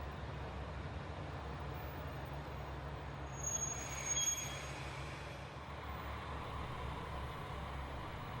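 A train bound for Toyooka pulls out of Tottori Station, a steady low rumble of rolling wheels and engine holding at moderate distance, swelling briefly midway with a faint high squeal before easing back.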